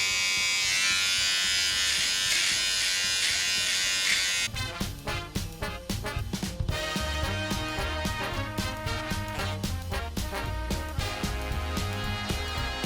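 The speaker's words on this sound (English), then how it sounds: "I'm going to use my clipper comb." Electric clippers with a clipper comb attached trim a man's beard, a steady close buzz that starts for about four seconds before breaking into rapid choppy passes and bursts as the blades move through the hair.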